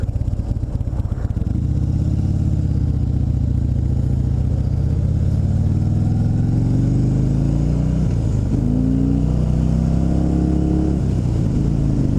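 A 2016 Harley-Davidson Dyna Low Rider FXDL motorcycle sits at idle, its V-twin engine thumping steadily and loud up close, with a rough, shaky lope that rises briefly near the end, with no talking.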